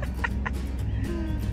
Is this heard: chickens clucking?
yes